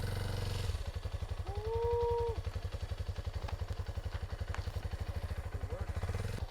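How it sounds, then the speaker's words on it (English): A lowered Kawasaki KLX 230 fitted with a Rekluse auto clutch idles in first gear with a rapid, even thumping beat, then the throttle rises briefly as it creeps forward before settling back to the steady single-cylinder chug. "with the bike idling in first gear, slowly apply the throttle to begin moving"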